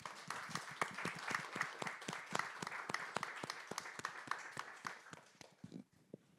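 Sparse applause from an audience welcoming a woman to the podium at a UN-related conversation event, made of distinct, fairly quiet individual claps at a steady rhythm that thin out and stop toward the end.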